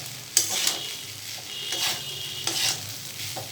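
A spoon stirs and mixes food in a hot pan while it sizzles, with a few sharp scrapes standing out against a constant soft frying hiss, close and with no voices.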